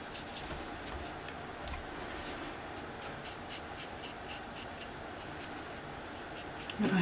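A brush or pen dabbing colour onto grass in a colouring book, making soft, quick tapping and rubbing strokes, close and quiet, in short irregular bursts.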